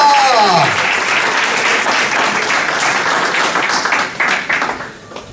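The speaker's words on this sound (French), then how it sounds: "On applaudit le Seigneur" A church congregation bursts into dense applause that sustains for several seconds, then thins out toward the end, with a brief voice or sung tone rising at the very start.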